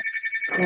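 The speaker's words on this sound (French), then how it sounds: "c'est mon téléphone" A telephone rings with a steady electronic bell tone, close and fairly loud, and a brief burst of other noise joins near the end.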